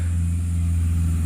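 A car engine hums steadily close by on a riverside road in rural Konkan, a continuous low motor drone with no clear rise or fall and no voices.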